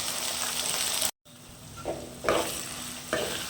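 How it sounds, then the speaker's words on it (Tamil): Turkey berries, tomato, garlic and onion sautéing in oil, a dense steady sizzle near at hand, briefly cut off, then returning softer with a few scraping stirs. "இந்த எண்ணெயிலே நல்லா இது கொஞ்சம் நேரம் வதங்கட்டும்"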